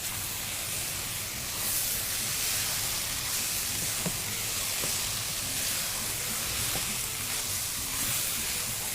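Minced meat (keema) fries in a pan with a steady, close sizzling hiss that runs unbroken throughout, while faint clinks and scrapes sit beneath it.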